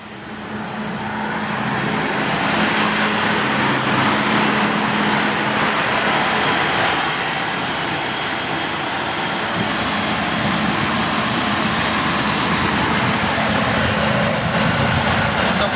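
A Toyota Kijang with a manual gearbox and an aftermarket Blackcore turbo fitted runs steadily at about 2000 RPM, giving a continuous broadband engine roar with a low hum, loud and close throughout with no talk.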